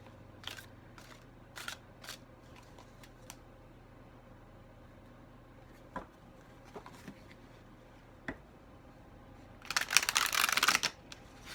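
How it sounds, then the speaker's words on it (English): Tarot cards handled in a quiet room: a few soft taps and flicks, then a loud, rapid riffling burst about a second long near the end as the deck is shuffled. No one speaks. "I'm shuffling cards"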